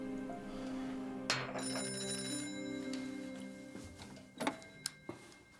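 A telephone rings in a domestic drama scene, a steady electronic ringing tone with sharp clicks and knocks near the end, no speech over it.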